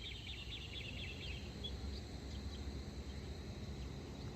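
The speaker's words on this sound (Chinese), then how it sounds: "还有小鸟，很多小鸟的叫声" Many small birds chirp faintly and continuously in a forest resort in Nantou, their thin calls layered over a steady low ambient hum, with no voices.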